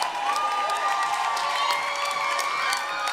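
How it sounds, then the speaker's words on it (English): A crowd at a national axe throwing championship cheers and whoops steadily, with scattered shouts and clapping in a reverberant indoor hall. "As we hear the cheers from the crowd."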